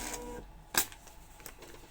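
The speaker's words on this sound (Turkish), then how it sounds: "Diğer barkod yazıcımızdan çıkıyor." A barcode label printer running a short print job, a brief sharp mechanical burst of feeding and cutting with faint machine noise around it, heard close and alone.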